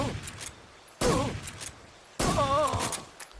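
Gunfire aimed at a boss in a video game, two loud, abrupt bursts of shots separated by quieter game ambience, each followed by a warbling in-game effect.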